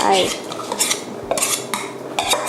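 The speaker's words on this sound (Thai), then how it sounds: "แล้วก็คน คนให้ตัวถั่วแดงเนี่ย" A spoon clinks and scrapes against a pot as red beans are stirred with sugar and a little water for Japanese kabocha shiruko, a series of close, bright metallic strokes with no talking.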